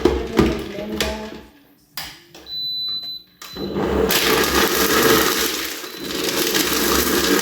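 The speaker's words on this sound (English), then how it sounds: "Then we put it in the blender." An electric blender whirs through a drink with ice in a home kitchen, first with crunching bursts, then a pause, then a loud, steady grinding roar that runs to the end.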